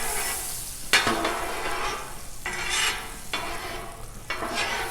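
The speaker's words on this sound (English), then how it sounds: "Let's get this butter all melted up." Butter melting and sizzling on a Blackstone griddle, a steady close hiss with several brief flares of louder frying as the heat rises; no one talks.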